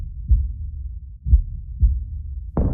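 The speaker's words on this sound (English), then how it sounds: "Dogwater's ears rang with the rhythmic sounds of her own heartbeat" Slow, deep heartbeat thuds, a few pulses spaced about a second apart, loud and close with a low rumble beneath, used as a sound effect in a Rimworld survival game set on the moon; a brighter noise cuts in at the very end.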